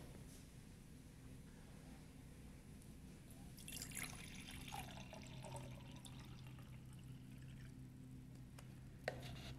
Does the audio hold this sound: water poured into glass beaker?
yes